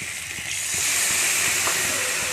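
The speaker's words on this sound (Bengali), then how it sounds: "এইবারে দিয়ে দিচ্ছি জল।" Water is poured into spiced potato curry (aloo dum) frying in a pan, giving a loud, steady hiss and sizzle that swells after the first half second and then holds, with a few soft knocks underneath.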